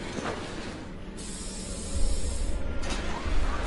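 Pepper spray hisses in two bursts, a sharp airy release separated by a brief pause, fairly close and without speech.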